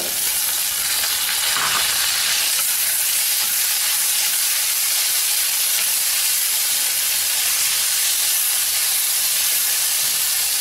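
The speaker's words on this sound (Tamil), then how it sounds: "வெங்காயம் நல்லா ப்ரௌனாக வரவுட்டி அப்புறம் நம்ம தக்காளியை போடலாம்." Onions frying in a pan for a red bell pepper chutney, a steady loud sizzle and hiss that runs without break, with a brief stir near the start and no voices.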